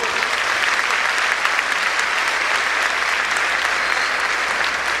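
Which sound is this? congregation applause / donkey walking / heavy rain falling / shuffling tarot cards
congregation applause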